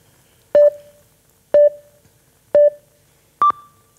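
Electronic countdown timer at a thesis presentation contest final: four short, sharp beeps spaced about a second apart, the first three equal in pitch and the last one higher, clear and loud in a quiet room.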